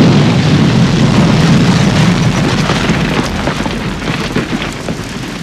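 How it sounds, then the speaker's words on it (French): An explosion goes off behind the speakers as a loud, sustained low rumbling boom that fills the whole clip and slowly fades, with no talk over it. "Pourquoi j'ai entendu une explosion derrière nous?"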